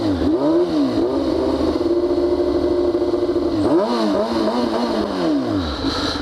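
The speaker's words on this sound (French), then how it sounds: "Je précise que la moto était chaude" A warmed-up motorcycle engine revs hard twice, each sweep climbing and falling back, with a steady idle holding between the two loud close bursts.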